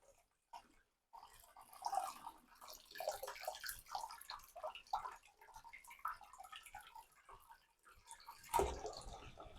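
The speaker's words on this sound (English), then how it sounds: "We're going to open up the tap and put that in front of your hot tap until you start getting water flowing" Hot tap water runs through a Pinter beer tap, with quiet irregular splashing and trickling that swells near the end.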